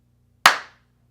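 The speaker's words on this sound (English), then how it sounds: "I have this microphone on, so I'm going to clap to sync my sound." A single sharp hand clap, made to sync a microphone, cracks once in an otherwise quiet room and decays quickly with a short reverberant tail.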